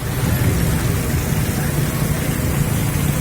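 Heavy monsoon rain pours down during the Gujarat floods, a loud, dense, unbroken roar of downpour that continues without pause and with no voices.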